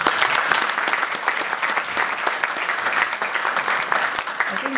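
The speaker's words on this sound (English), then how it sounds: "Can you give a round of applause?" Audience applause fills the hall at a Hindu Academy award ceremony and Vivekananda celebration, a steady, dense wash of many hands clapping at close to moderate distance throughout, with no speech over it.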